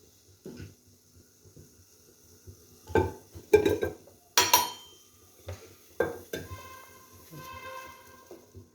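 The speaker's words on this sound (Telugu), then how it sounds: "కుక్కర్ వేడైంది, ఆయిల్ పోస్తున్నా." Oil poured into a hot pressure cooker on a stove for ginger chicken curry, with scattered metallic clinks and clatters of a pot and utensils, a faint sizzle toward the end, no talking.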